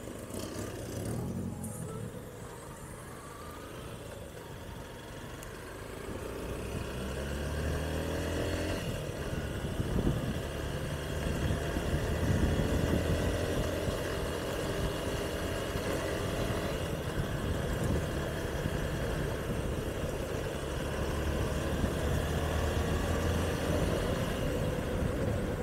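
A black Chevrolet Camaro's engine runs steadily with a low, rumbling idle and occasional swells, close by and continuous with no talk over it.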